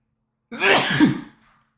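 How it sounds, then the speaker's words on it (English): A single sneeze bursts out close by after a brief breath, loud and sharp, then trails off into quiet, with no talking around it. "I think I'm about to sneeze."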